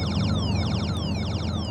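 Radar-warning alert from a smartphone app in a car, a repeating electronic tone of rapid descending chirps in three quick bursts over a low road and engine hum.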